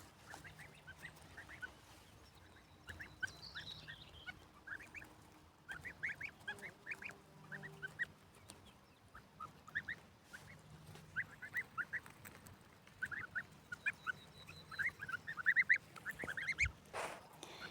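Goslings grazing outdoors make a scatter of soft, high peeping and honking calls, faint and intermittent over quiet background.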